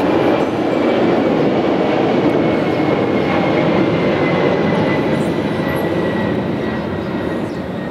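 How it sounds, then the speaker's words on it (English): An aircraft passing overhead during an outdoor event, a loud continuous roaring rumble that holds steady and fades slightly at the end, with no talk over it. "just wait for the aircraft"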